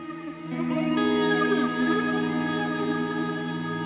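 An electric guitar chord rings out through an Old Blood Noise Sunlight reverb pedal on a fast-wobbling modulation setting, sustained and washy with a shimmering pulse, no voices.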